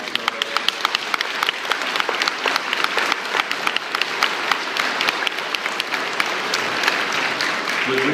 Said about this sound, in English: Can you stand up and can we give them an applause?